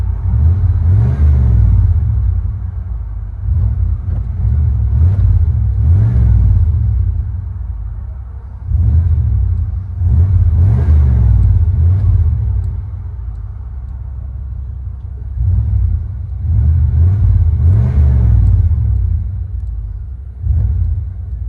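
From inside the cab of a 1995 Chevy 1500 Z71, the 5.7L V8 with Magnaflow Magnapack exhaust and 3-inch dual-tip pipe rumbles low, rising in repeated rev surges every few seconds between steadier idle stretches.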